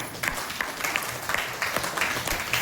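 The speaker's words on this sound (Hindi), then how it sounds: "बढ़िया है, ताली हो जाएगी सारे" A business-meeting audience claps on request, a brief burst of fairly quiet, scattered clapping from the room with separate sharp hand claps standing out.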